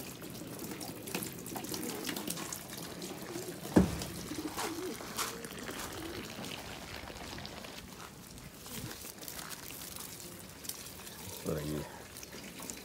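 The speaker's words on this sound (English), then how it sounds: "water running too slow, so let's crank it up a little." Tap water runs steadily into a basin while nearby racing pigeons coo softly, with a brief clatter partway through and a faint voice at times.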